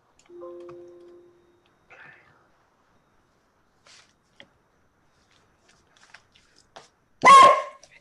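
A single dog bark bursts out loud and close near the end, after a long quiet stretch holding a few faint ticks and a brief tonal hum, in a room during a meeting.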